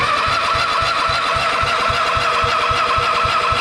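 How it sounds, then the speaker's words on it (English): A Sears Suburban ST16 garden tractor engine cranks on starting fluid, a loud, close, rapid rhythmic chugging of the starter turning the engine over without settling into a run. "let's see if I can get it running. At least on starting fluid."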